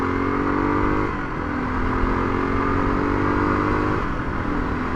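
A KLR 250 motorcycle engine drones at steady revs while riding, the pitch dipping and climbing as the rider struggles to upshift, loud and close with a rough mechanical clatter; no one speaks.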